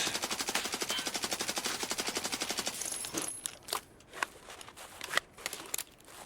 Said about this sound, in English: And now he's shooting again